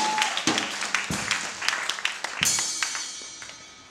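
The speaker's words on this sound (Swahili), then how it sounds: "Pigia Yesu makofi." Congregation at a church service clapping for Jesus, a run of irregular hand claps and slaps with some voices mixed in, fairly close and moderately loud.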